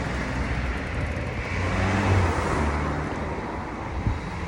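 Cars pass on a roadside as a cyclist waits to cross, giving a steady loud roadway roar that swells in the middle, with wind buffeting the microphone.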